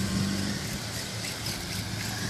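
A nitro- or petrol-powered RC drift car accelerates into a fast lap, its small engine producing a buzzing, fairly loud whine at a moderate distance, with no talking.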